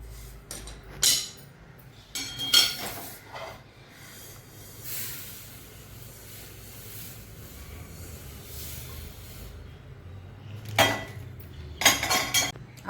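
Metal utensils scrape and clink against a pan as roasted sesame seeds are lifted out, a few sharp bursts at the start and end separated by a quiet stretch of faint low hiss.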